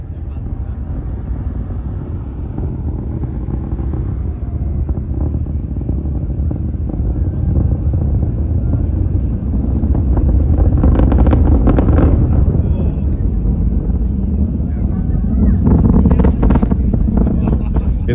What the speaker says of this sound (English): The rumble from the launch pad and the engines